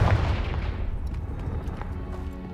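A fiery spell blast in the Hogwarts Legacy video game: a heavy booming explosion that hits at once and then rumbles and crackles away over a couple of seconds.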